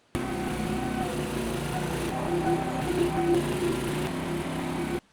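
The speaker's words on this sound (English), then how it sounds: "I'm going to drive it onto some fence posts" Small engine of a cheap Chinese mini digger runs steadily at close range, a constant buzzing, lawnmower-like drone with slight rises in pitch as it moves; no talk.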